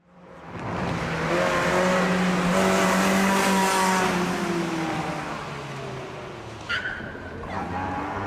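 A Mazda MX-5 rally car racing in the rear-wheel-drive class roars past, its engine note climbing and then falling away as it passes, loud and close, with no talk over it.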